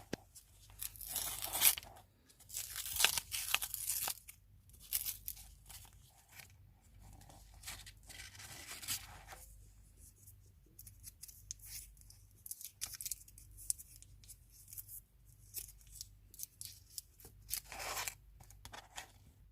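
A bubble gum wrapper is torn and crinkled open in several quick, close bursts of tearing and crunching, separated by brief pauses, with no talking.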